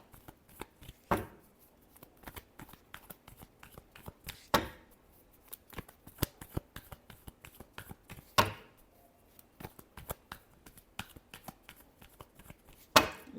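Tarot cards being shuffled up close: soft, quiet riffles and taps come in irregular bursts, with a few sharper slaps standing out, and no talking.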